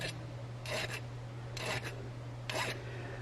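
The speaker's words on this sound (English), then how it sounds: "Every time you make a cut, you deburr." A metal part fresh off a lathe cut is deburred with a file, three short rasping strokes at an even rhythm over a low steady machine hum, close and fairly quiet.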